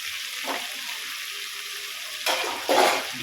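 Paper chicken being sautéed in a pan, a soft steady sizzle that swells into two louder bursts of frying near the end, no talking.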